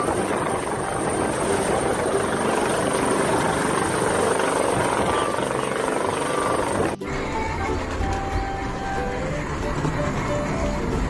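A toy helicopter's loud, steady rotor roar fills the scene from start to finish, with a sudden shift in the engine tone partway through.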